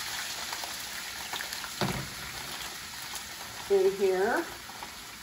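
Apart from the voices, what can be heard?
cauliflower rice sauteing in oil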